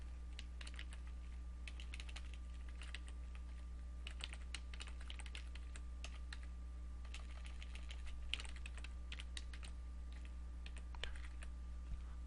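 Soft, quick keystrokes on a computer keyboard tap in irregular bursts over a steady low electrical hum, close and quiet with no voices.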